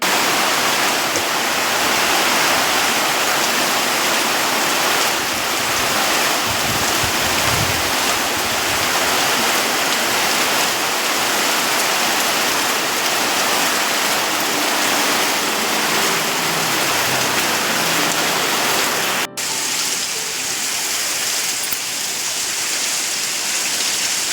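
Heavy rain pours down steadily on a rainy day at home, a dense, even roar that fills the whole stretch with no talking, broken only by a single sharp click near the end.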